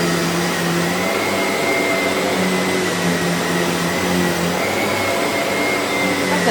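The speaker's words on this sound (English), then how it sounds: "So let's keep vacuuming and bring that carpet pile back up to brand new." A SEBO E3 Premium barrel vacuum runs continuously over carpet, a loud steady whine and airflow roar with slight shifts in pitch as the head moves back and forth, with no voices.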